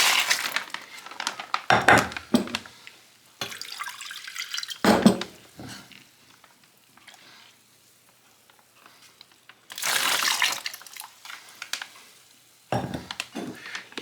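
A sacked bear ham goes into a container of liquid brine, with bursts of splashing and sloshing water alternating with quieter gaps, close and fairly loud.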